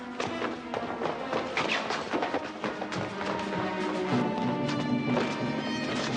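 Horses neigh and whinny over a dense clatter of hooves and commotion at a medieval estate, loud and continuous with crashes and thuds mixed in, and no one speaking.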